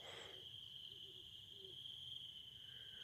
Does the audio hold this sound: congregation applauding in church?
no